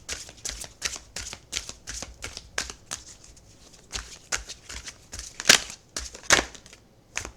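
Tarot cards shuffled and drawn at close range: a rapid run of crisp riffling flicks and papery slaps in uneven bursts, with sharper snaps toward the end, no talk.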